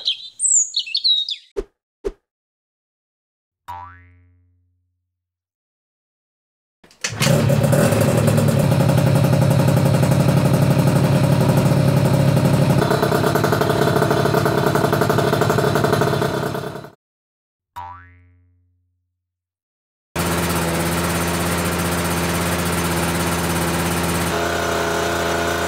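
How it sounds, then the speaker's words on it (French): A scooter engine runs first through Yasuni R exhausts and then through a Most 70 competition exhaust, in two long steady revving stretches separated by silence and brief starts, loud and close, with short chirpy sounds at the opening. "Je vous laisse juger à l'oreille ce que donne la différence entre les Yasuni R et le pot Most 70."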